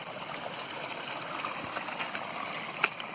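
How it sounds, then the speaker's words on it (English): Water flowing across debris-strewn ground toward a road after erosion near Thunder Lake, a steady, soft broadband rush with gentle trickling texture, continuous and moderately faint, with no voices over it. "There's some water flowing here"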